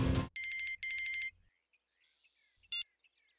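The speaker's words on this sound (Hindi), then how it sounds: "वाइफ का फोन आया" A mobile phone ringtone in a Hindi crime drama plays as short repeated electronic bursts, loud and close, then stops, leaving brief faint beeps and quiet.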